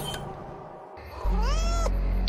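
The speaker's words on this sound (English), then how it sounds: "I get my own kitty cat." A cat in the hidden-object video game Mystery Case Files: Fate's Carnival gives a single clear, drawn-out meow over a low background hum, close and alone with no talking.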